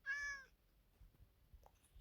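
A single clear meow from a cat in the video game Minecraft, short and tonal, followed by faint background noise with no one talking.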